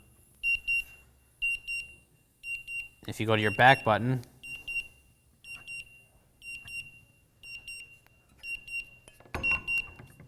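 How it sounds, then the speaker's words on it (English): Rapid, high-pitched electronic beeps from a Drager PAC III gas detector in alarm pulse in repeated bursts throughout, with someone speaking briefly partway through over the beeping. "you'll hear it go into alarm"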